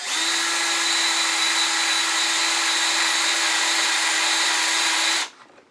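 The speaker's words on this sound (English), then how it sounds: "going to use a smaller drill bit to get out some of that wood out of the middle" A power drill fitted with a smaller bit bores out the middle of scrap wood, a loud steady whine running continuously for about five seconds and then cutting off abruptly.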